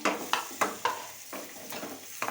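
Stirring sizzle of tawa masala dhokla in a hot pan, with a series of sharp scraping strokes at an uneven rhythm over a steady frying hiss, close up.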